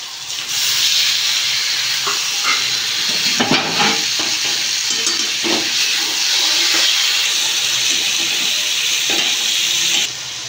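Fish coated in salt and turmeric sizzling in a hot pan, a steady loud hiss of frying oil with occasional stirring clatters and bursts of spattering throughout.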